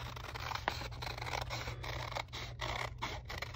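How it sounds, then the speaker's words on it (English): Scissors snip through folded paper during a paper weaving art lesson, a steady run of close, dry scraping cuts over a low background hum. "Don't cut the open side, cut the folded side."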